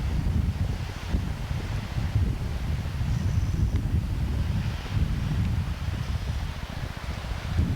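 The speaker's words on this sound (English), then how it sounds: "Wind across the face of the cliff." Wind buffets across a cliff face in a steady, heavy low roar and rumble, with a faint hiss of surf beneath it and no voices.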